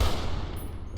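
Rapid gunfire from the video game Fallout, a loud sustained burst of shots with heavy low rumble filling the whole second, no talking over it.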